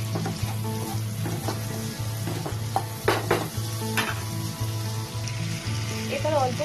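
Vegetables with garlic and chilli are stirred in a hot pan for Gobi Manchurian, giving a steady close sizzle broken by repeated scraping clinks of the spoon against the pan, with a low hum underneath.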